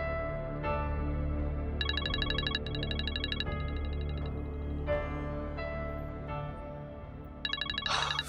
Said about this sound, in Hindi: फैजी तुम्हारा फोन आ रहा है।